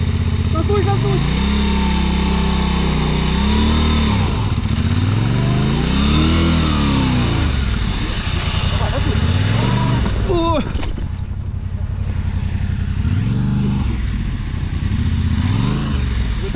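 A Yamaha motorcycle engine revved loudly nearby, its pitch sweeping up and down in repeated surges over a constant rumbling idle, with a sharp rattle partway through.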